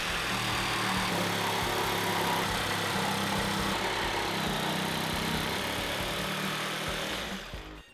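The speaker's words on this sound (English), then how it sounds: "Since I'll be doing that rough cutting with a jigsaw" A jigsaw rough-cuts a countertop, its blade chattering through the material with a steady, loud, buzzing whine that holds for several seconds, then stops abruptly at the end.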